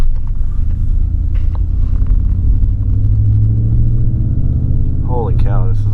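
A 2013 Ford F-150 pickup engine runs as a steady, loud low rumble throughout, with a person talking over it and a brief higher squeal near the end.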